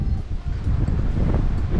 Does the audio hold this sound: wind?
yes